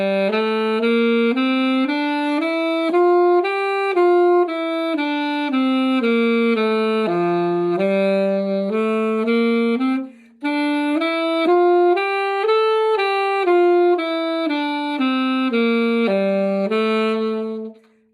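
Saxophone working through a scale pattern exercise, a long steady run of clear, evenly spaced notes climbing and falling in repeating figures, close and alone with a brief pause midway.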